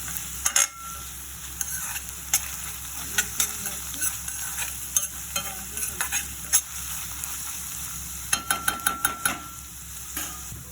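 Potatoes with ginger garlic paste are stirred in a sizzling pan, a steady frying hiss punctuated by frequent close spoon scrapes and taps, with a quick rapid flurry of strokes near the end.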